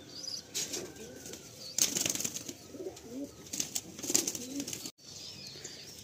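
Madrasi pigeons in a full loft coo in low warbling bursts while wings flap loudly in several rushes, close and busy, with a brief dropout near the end.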